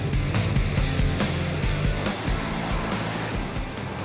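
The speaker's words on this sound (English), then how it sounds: "All the drivers in their trucks ready to go racing" Racing trucks sit ready at the start of a race, engines rumbling together in a steady, moderately loud low drone with a few brief bumps and clanks, no voices heard.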